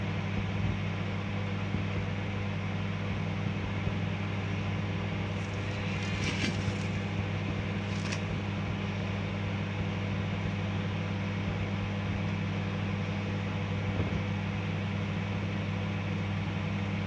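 A microwave oven runs while drying rose petals at home, giving a steady, faint low hum with a couple of brief light rattles partway through.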